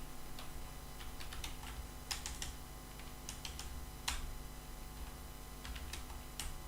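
Keys on a computer keyboard click in quick, irregular taps as HTML code is typed, sitting under a steady background hum with no voice.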